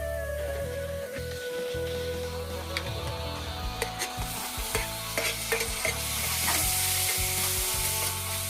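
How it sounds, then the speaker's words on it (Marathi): Phodnicha tempered rice being stirred and fried in a pan over a wood-fired stove, with a steady sizzle under repeated scraping and clinking of the spoon, close and continuous. "आणि इथे आता चालू होतं माझं फोडणीचा राईस बनवत होते मी"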